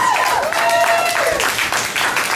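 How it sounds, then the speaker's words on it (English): Loud crowd applause with cheering at a political event with a congresswoman, while a voice rises and falls over the clapping. "I'd like to hear a big round of applause."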